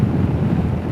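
Wind buffets the microphone in a steady low roar while riding a Himalayan motorcycle on the Kielder Forest Drive, loud and continuous with no voices.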